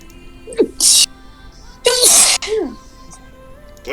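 Two loud sneezes close to the mic, each a short sharp burst with an intake before it, with brief voiced sounds around them.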